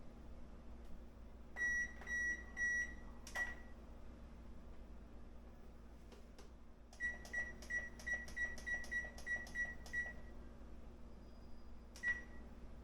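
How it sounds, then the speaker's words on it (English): A kitchen oven gives a quiet series of electronic beeps as it is set to bake at 400 degrees: a few scattered beeps, then a quick run of evenly spaced ones, over a low steady hum. "we're just gonna turn it on to bake, and it's gonna be at 400 degrees"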